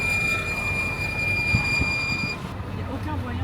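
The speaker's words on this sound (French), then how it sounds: "Mais peut-être que c'est juste le bruit des freins." Car noise on steep slopes, likely the brakes, a steady rumbling drone with a high whine that stops partway, a couple of knocks, and talk over it.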